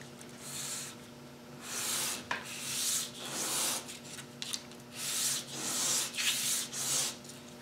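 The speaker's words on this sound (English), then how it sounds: "So let me continue sanding these" Rhythmic rasping strokes of sandpaper rubbing on small wooden segmented discs, repeated back and forth at an even pace, close and fairly quiet.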